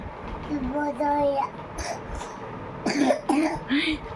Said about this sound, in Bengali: কি কাশি হয়েছে